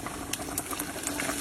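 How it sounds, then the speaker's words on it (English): Rendered bacon fat sizzles in a pot for collard greens, a quiet, steady hiss dotted with small crackles and pops, heard briefly and on its own. "Wait, you hear that sizzle?"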